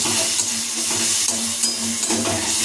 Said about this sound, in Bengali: এটা খুন্তিতে ভালোভাবে নেড়ে নেবো